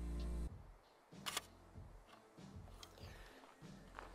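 A Polaroid Land camera loaded with expired pack film fires a slow shutter: a low whirring hum, then a sharp click followed by a few soft mechanical knocks and taps, quiet and close.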